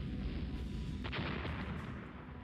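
Warship gunfire in the naval strategy game Rule The Waves, a dense continuous roar of booming artillery with a few sharper bursts standing out.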